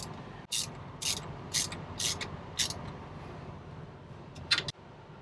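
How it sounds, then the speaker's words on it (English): Ratchet wrench tightening bolts on a Carrier Comfort Pro APU alternator belt, a few quick bursts of sharp, close clicking spaced about half a second apart, then one more burst after a pause, in a quiet setting. "Now I'm going to just tighten it down."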